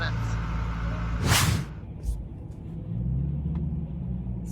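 Cars pull into a busy donut shop parking lot on a fall weekend, with a low, steady engine rumble and one vehicle sweeping past close by partway through.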